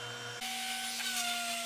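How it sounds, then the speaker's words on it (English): A disc sander grinds the edges of a wooden sign in a workshop, a steady whirring hum with a rasping tone that shifts slightly as the wood presses against the disc. "edges with the disc sander."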